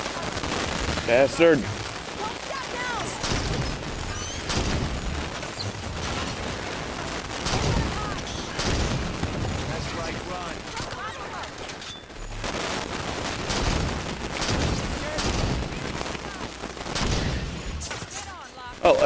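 Gunfire rattles through a Halo 5 firefight in repeated bursts and volleys, loud and dense, while a player talks over the shooting.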